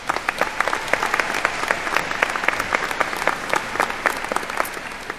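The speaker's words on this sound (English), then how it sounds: "Give yourselves a round of applause." Graduating class applauding at a spring commencement ceremony, a steady wash of many hands clapping with sharp individual claps standing out, fairly close and continuous for several seconds with no talk over it.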